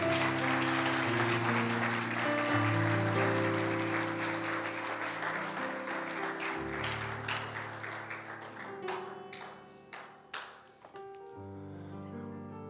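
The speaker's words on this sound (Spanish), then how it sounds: "Denle un aplauso al Rey" A congregation applauds at a bilingual Sunday church service, clapping under loud music before the applause thins out into scattered, separate claps near the end.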